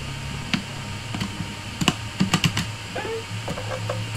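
Uneven bursts of clicking keys on a computer keyboard while playing a horror game, with a few quick clustered strokes standing out over faint background sound.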